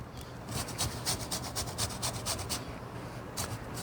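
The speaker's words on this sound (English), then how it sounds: "going to zest about a teaspoon of lemon in here" A lemon is zested over cornbread batter, making a rapid rhythmic scraping and rasping of rind against a grater, close up and steady for a few seconds, with no talking.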